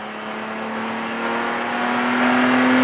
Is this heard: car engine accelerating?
yes